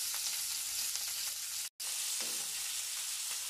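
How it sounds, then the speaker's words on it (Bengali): Onions frying in oil in a frying pan make a steady, close hiss and sizzle with a brief cut partway through, and no voices. "আমি পেঁয়াজগুলোকে ফ্রাই প্যানে দিয়ে দিয়েছি,"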